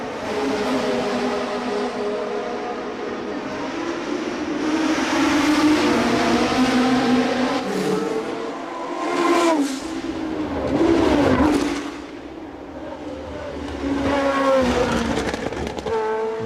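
Historic 1966–1975 winged Formula One cars, including a Tyrrell P34, racing through the streets of Monaco at the historic Grand Prix, with loud engines rising and falling as cars pass close by in succession.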